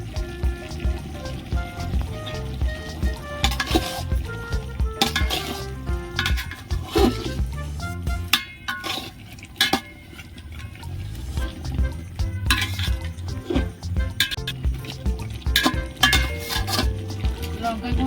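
Mutton curry with chili powder stirred in a pan, a spoon scraping and clattering against metal in irregular bursts over a wet, bubbling sizzle, close and continuous throughout.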